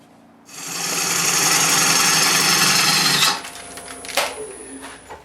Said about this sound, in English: I'll have to clean up this little nub at the workbench